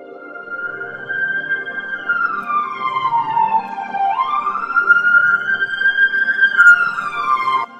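A police car siren wails steadily and loudly, its pitch sweeping slowly up and down across the whole stretch, with no talking.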